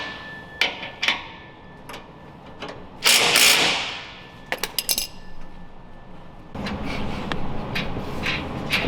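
Metal clicks and clinks of a ratchet wrench working the exhaust nuts under a 2021 RAM TRX, with irregular sharp ticks in short bursts, close to the microphone and with no talking.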